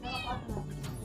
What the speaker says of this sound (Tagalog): Mga pusa. Yan, pusa.